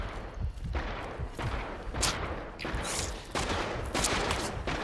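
Mosin rifle gunfire rings out in Hunt: Showdown as several sharp shots in quick succession, set against a busy, rumbling game soundscape.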